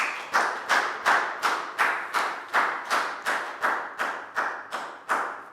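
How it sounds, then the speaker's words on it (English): Class applause for a student in a Year 3 maths lesson: about thirteen sharp, evenly spaced claps in a steady rhythm, close and clear, with no talking. "And a big round of applause for Prel."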